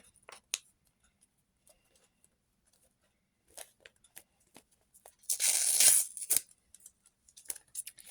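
Paper surprise packet torn open by hand, a short rustling rip in the middle after a few light paper ticks and crinkles, close and fairly quiet.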